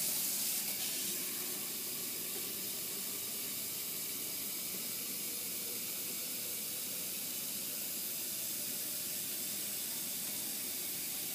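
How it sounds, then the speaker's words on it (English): Tap water runs steadily into a container being filled for mixing plaster, a continuous close hissing splash with no talking. "I'm going to fill my container a little more than halfway full with water."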